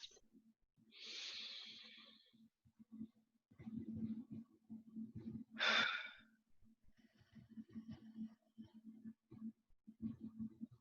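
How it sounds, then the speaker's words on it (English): Slow, deep breaths drawn in and released, a long airy exhale followed later by a sharper inhale-exhale, close and quiet, with soft low murmuring voice sounds between them. "take a few deep breaths"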